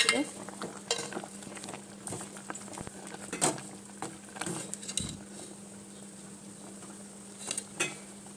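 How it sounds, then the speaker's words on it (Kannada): Soft stirring and scraping of leafy greens in a pot for sambar, with faint sizzling, intermittent utensil clinks and taps over a low steady hum. "ಚೆನ್ನಾಗಿ ಸೊಪ್ಪು ಬೇಯಬೇಕು"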